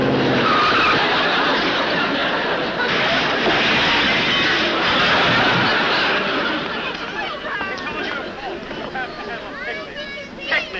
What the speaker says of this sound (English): Gee, these new cars have a fast getaway.